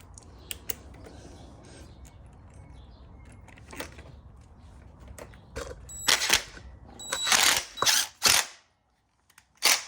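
Bolts are fitted back into the radiator of a Suzuki LTZ 400 quad, heard as a close run of metallic ratchet clicks and sharp taps that grow louder and faster near the end before stopping.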